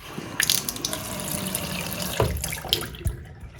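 Water runs steadily from a Peerless sink faucet in a continuous hiss and splash, with a few sharp knocks and clicks along the way. It is close and moderate in loudness, with no one talking.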